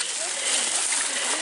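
A hiking boot plunges into deep water on a bushy Florida longleaf pine trail, giving a close, broad splash and sloshing that fills the moment, with a voice exclaiming over it.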